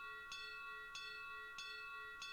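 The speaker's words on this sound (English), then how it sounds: "Where is the bell even ringing from?" A bell rings in the video game Tales of Vesperia, four evenly spaced bright metallic strikes with long ringing tones, quiet and alone.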